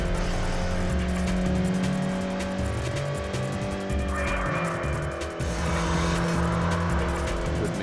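A race car in a Group S racing video game roars down a long straight, the engine holding a steady, loud drone with faint tire noise underneath, continuous and close throughout.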